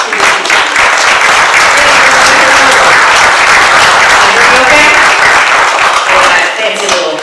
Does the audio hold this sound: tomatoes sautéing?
no